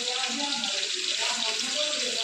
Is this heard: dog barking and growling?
no